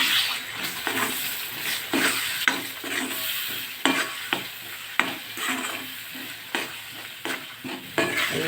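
Ground spice paste for a Chettinad green pepper curry frying and sizzling in hot oil, with steady crackle and repeated stirring scrapes at an even rhythm, close and loud with no talk.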